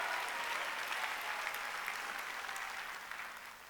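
A church congregation at a Sunday worship service claps together in a soft, sustained, fairly distant burst of many hands that gradually fades over a few seconds.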